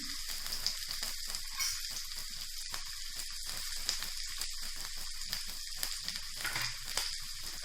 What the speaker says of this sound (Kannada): ಕ್ಯಾಪ್ಸಿಕಮ್ ಹಾಕ್ತಾ ಇದ್ದೇನೆ.